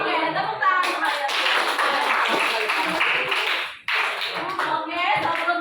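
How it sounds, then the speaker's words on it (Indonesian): A classroom of students claps together in a quick burst of hands, fairly close and lively, breaking off briefly before resuming. "Oke, tepuk tangan kalian."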